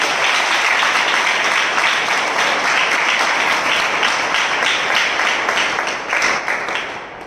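Loud, sustained applause from a congregation at a spiritual passion assembly of believers, a dense steady wash of clapping lasting several seconds before tapering slightly at the end.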